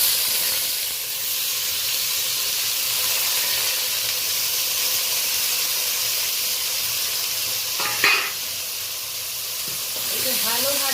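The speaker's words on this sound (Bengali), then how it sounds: "এই পর্যায়ে আমি এইগুলো সমস্ত কিছু দিয়ে দেব। পেঁয়াজ, টমেটো, কাঁচা লঙ্কা চেরা, আর রসুন সমস্ত কিছু দিয়ে দেব।" Onion, tomato, slit green chilli and garlic sizzle in hot oil with a steady, loud hiss, broken by one short clatter near the end.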